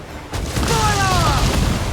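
Ship cannons fire during a naval battle in Assassin's Creed IV: Black Flag, a heavy booming roar that swells and rumbles continuously, with a shouted voice briefly rising above the blasts.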